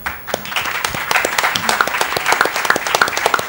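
An audience at a regional quiz final applauds with dense, steady clapping, loud and close, rising slightly toward the end.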